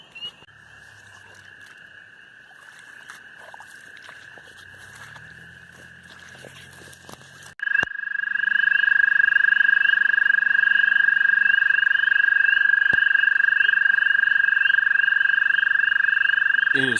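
Frogs and toads call on a spring night in a steady, continuous trill that swells louder midway and carries on unbroken, with faint chirps and soft movement noises in the background.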